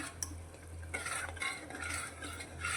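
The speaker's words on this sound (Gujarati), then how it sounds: "આપણે જે સિંગદાણાને બાફીને રાખ્યા છે તે અંદર ઉમેરી દઈશું અને સારી રીતે મિક્સ કરીશું" Boiled peanuts being stirred into a boiling gravy for a Gujarati peanut dish, with soft bubbling and scraping spoon strokes against the pot, a steady low simmer underneath and light clinks, no talking.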